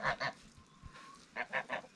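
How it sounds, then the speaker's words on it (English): A mother goose honking near her nest on a farm in central Portugal, two quick honks then a pause and three more, close and clear with nothing else over them. "Mother Goose is coming round to double check what I'm doing."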